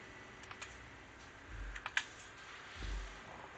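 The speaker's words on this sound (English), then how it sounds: "I could maybe do a quick finger tickle on the keyboard and swap the colors" Fingers tap a computer keyboard in a few quick, faint clicks and keystrokes, with soft low thumps in a quiet room.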